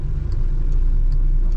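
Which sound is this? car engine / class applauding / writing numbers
car engine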